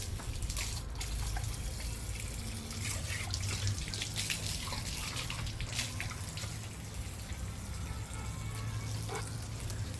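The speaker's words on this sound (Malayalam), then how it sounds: "പൈപ്പ് അടയ്ക്കട്ടെ" A water tap on a terrace runs steadily with a continuous, moderately quiet gush and splash and occasional drip-like ticks, and nobody speaks.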